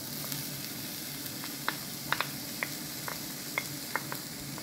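Chopped onion sizzles in a hot pan, a steady close frying hiss with scattered small pops and crackles, and no talking.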